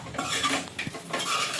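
Dried chicken pieces are tipped into a pan of masala and stirred, giving continuous scraping and clinking of a utensil against the pan over a soft sizzle, close and steady.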